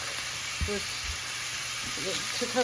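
Sausage and onions fry in a dry pan with no added grease, giving a steady close sizzle and hiss while a person talks briefly in the background.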